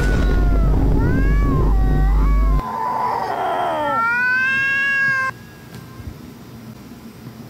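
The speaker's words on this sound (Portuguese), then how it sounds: "Essa é a visão de uma briga de um gato." Cats fighting, with loud, drawn-out wailing yowls and meows that rise and bend in pitch. The cries come close and alone, ending in a sustained high caterwaul before fading into quiet.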